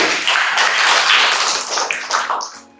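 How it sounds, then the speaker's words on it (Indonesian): A classroom gives a burst of applause, dense steady clapping from many hands for close to three seconds before it thins and fades out, with no talking over it. "Bisa berikan aplaus untuk"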